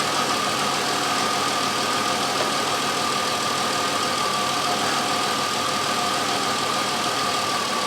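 A 2003 Chevrolet Impala engine idles steadily and evenly at close range, a continuous mid-pitched hum with no revving or other sounds throughout.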